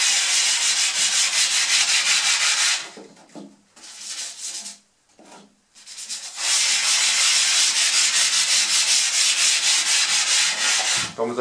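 Wood is hand sanded with primer oil in long, steady rasping strokes, loud and close, broken by a short pause of lighter scrubbing before the sanding resumes.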